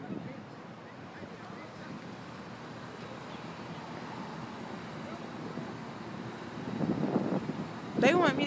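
Steady traffic noise from cars passing on a nearby street, a continuous roadway hum that grows louder near the end.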